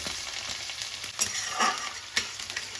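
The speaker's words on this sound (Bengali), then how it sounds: "সুন্দর করে ভাজা ভাজা হয়ে গেল" Steady sizzling of chopped ginger, chili and garlic frying in hot oil, with a few sharper crackles and stirring scrapes along the way.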